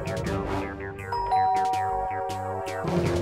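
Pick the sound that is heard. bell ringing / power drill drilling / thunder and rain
bell ringing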